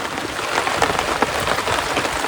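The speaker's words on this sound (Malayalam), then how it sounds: "നല്ല അടിപൊളി മഴയാണ്." Heavy rain pours steadily onto surfaces nearby, a dense, even hiss of drops with no voices over it.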